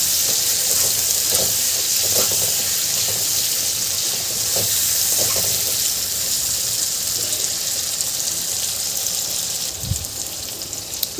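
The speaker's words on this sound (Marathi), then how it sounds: "आता यामध्ये आपल्याला बारीक चिरून घेतलेले हे बटाटे घालायचे आहे" Finely chopped potatoes sizzling in a pan for aloo palak, a steady close frying hiss with occasional stirring scrapes and a clunk near the end, no talk.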